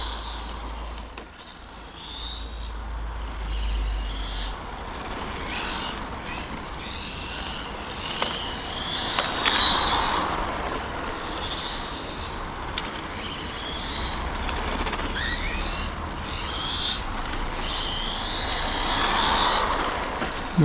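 A Hobao EPX radio-controlled race truck drives over low, rough ground, its electric motor making a steady whine that rises and falls in pitch, moderately loud and close, with no talking.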